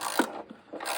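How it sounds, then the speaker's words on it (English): A ratcheting socket set loosening a bolt on the front strut of a 2016 Kia Soul, giving short mechanical ratchet clicks and rubbing bursts, close and moderately loud, with a brief pause in the middle. "I've got this socket set that just allows for that scenario."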